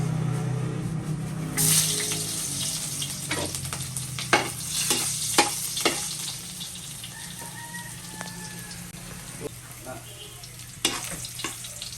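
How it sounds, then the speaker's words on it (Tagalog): Garlic dropped into hot oil for dinuguan, sizzling steadily while a utensil scrapes and clacks against the pan in irregular strokes, the frying hiss strongest after it goes in and easing slightly later. "Nya, ako na ilunod ning ahos."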